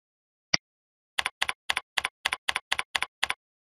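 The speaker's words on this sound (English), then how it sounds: "Then you can type them in," Keys on a computer keyboard tapped during charting in PCC EHR software: one isolated click, then a steady run of about ten crisp, close keystrokes at an even pace in a quiet room.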